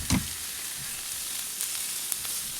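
Steak sears in a hot pan with toasted spices including cumin, giving a loud steady sizzle with a few sharp crackles and pops and no talking.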